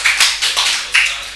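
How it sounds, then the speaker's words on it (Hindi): A small group in a classroom claps in a few loud, close bursts, each quickly fading, with short gaps between them. "तालियां बजा दो भाई,"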